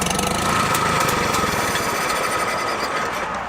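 An old, long-abandoned tractor engine idles close by with a steady, rapid, rough knocking chug that stays even and loud throughout.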